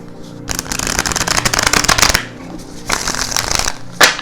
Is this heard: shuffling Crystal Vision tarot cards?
yes